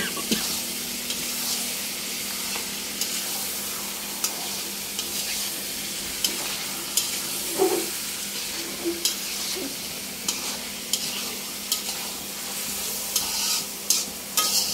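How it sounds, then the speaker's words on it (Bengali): A spatula scrapes and stirs pangas fish in a pan of masala at an irregular rhythm over a constant oily sizzle. "মাছগুলো দিয়ে দিলাম, দিয়ে আমি এবারে নেড়ে চেড়ে নিব মশলার মধ্যে"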